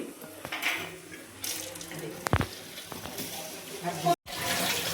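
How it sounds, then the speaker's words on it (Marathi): A kitchen tap runs steadily while roasted dried fish (sukat) is rinsed under it in a sink, with water splashing and occasional clinks, and someone talks over the flow. "सुकट जरा धुवून घेते मी."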